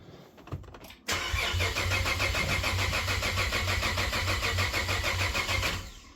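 A Cadillac ATS-V engine cranks on a start attempt, giving a steady, continuous mechanical whir that holds for about five seconds before cutting off, with no voices.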